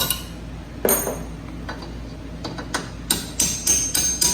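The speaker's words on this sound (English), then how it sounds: "you can take a hammer, and you can tap them out" Sharp metallic hammer taps ring out one at a time as bolts are tapped out on a Fiat 500 strut install, sparse at first then quickening into a short run of strikes near the end.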